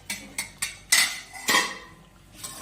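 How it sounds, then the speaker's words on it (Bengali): A metal lid lifted off a simmering cooking pot of fish curry: a series of sharp metallic clinks and clanks, a few light taps followed by two louder ringing scrapes, close by in a quiet kitchen. "ঢাকনাটা খুলে নিলাম।"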